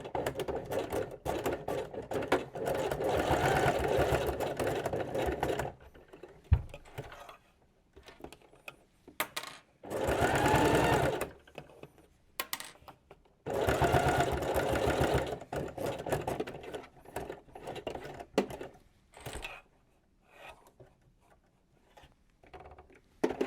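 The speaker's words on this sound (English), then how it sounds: "we will sew this shut, edge to edge, stitch length" A domestic sewing machine stitches a seam on a denim workwear jacket in several bursts of rapid needle chatter, with quiet pauses of handling in between; no voices.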